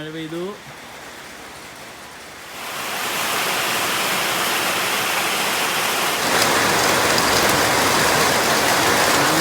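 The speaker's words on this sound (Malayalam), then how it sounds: "അയ്യോ മഴ വന്നു, മഴ പെയ്തു." Rain falling outside a home kitchen during cooking: a broad, steady hiss that swells after a couple of seconds into a heavy, continuous downpour, with a brief voice at the very start.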